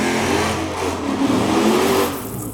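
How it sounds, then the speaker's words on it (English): A black Trans Am and a silver Chrysler 300 in a street race roar past with loud revving engines and a broad, steady rush of motor noise, close and filling the whole moment without speech. "There's footage of a street race. Looks like a black Trans Am and a silver Chrysler 300."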